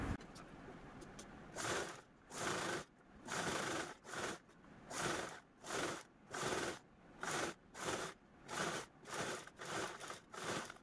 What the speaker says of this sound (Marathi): तुम्ही हवं तर टाचणी पण लावून घेऊ शकता आणि अशा पद्धतीने स्टिच करून घ्यायचे आहे।